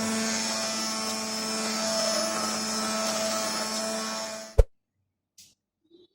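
An electric blender grinding tomatoes into puree, a loud steady high-pitched whirring motor that runs for several seconds, then stops abruptly with a clunk, followed by near silence and a couple of faint knocks.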